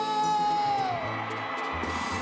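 Crowd yelling and whooping at a live banda music event at a radio station party, loud and continuous with shouts rising over a dense band sound throughout.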